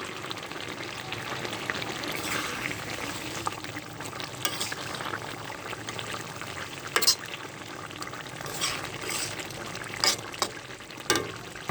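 Silver carp frying in a pan with green chilli, black cumin and ground pepper paste stirred in, a steady close crackling sizzle with scraping stir sounds and a few sharp clinks.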